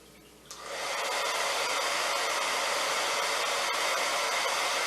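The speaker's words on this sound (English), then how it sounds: "Okay, and this hair dryer." A hair dryer switches on and blows a steady loud hiss of air, holding a ping pong ball suspended in the stream, running continuously without speech.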